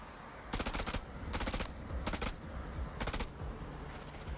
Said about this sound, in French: Putain, mitraille son arme.